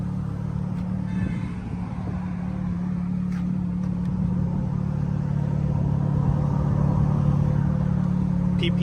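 A Ferrari F430 engine idles steadily after a cold start, a constant low rumble with a faint higher whine that holds at an even, fairly loud level throughout with no revving.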